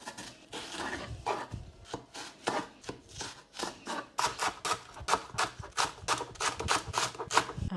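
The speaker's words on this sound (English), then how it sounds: "the best way to do the leek is I'm just gonna slice it into four and give it a good rinse" A knife slices a leek into quarters on a cutting board, making a rapid, steady run of crisp chopping strokes that quicken toward the end, close and alone.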